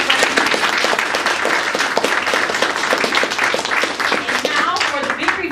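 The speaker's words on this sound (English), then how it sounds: "So let's give one last round of applause for our next speaker." Dense, sustained applause from an audience at an author contest winner announcement event, steady and loud throughout with many hands clapping at once.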